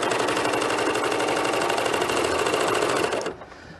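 Serger sewing a two-row cover stitch on knit fabric: a steady, fast, loud mechanical whir with a rapid needle rhythm that runs for about three seconds, then stops abruptly, leaving a quiet hum.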